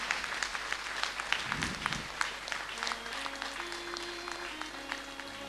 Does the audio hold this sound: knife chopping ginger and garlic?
no